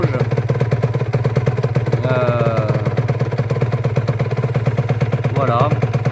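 A 2006 Aprilia 125 RS two-stroke motorcycle idles steadily close by with a rapid, even putter, while someone talks over it.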